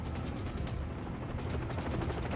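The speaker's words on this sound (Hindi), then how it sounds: "हाँ दोस्तों हमारे ऊपर एक हेलीकॉप्टर है" A helicopter's rotor in the video game Far Cry thuds in a fast, steady beat overhead, a rumbling chop that stays constant and fairly quiet throughout.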